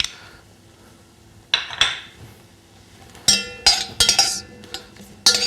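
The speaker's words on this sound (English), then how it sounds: "Give it a stir." A spoon stirs cooked, drained beans with butter, salt and pepper in a pot, giving sparse, sharp metallic clinks and scrapes in short clusters separated by near-quiet pauses.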